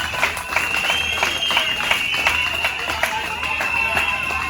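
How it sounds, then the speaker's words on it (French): Applause for the secretary general at a women's commemoration gathering in Nganda Yala, a crowd clapping steadily and fairly close, with brisk rhythmic claps throughout. "on applaudit très très fort pour le secrétaire général au monde"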